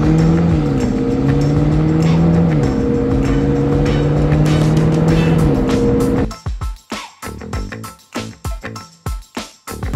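Race cars, a DDE McLaren and a full bolt-on modified Corvette Z06, roar with a loud sustained engine whine rising through gear shifts, then break into choppy bursts of engine and tire noise, close and without talking.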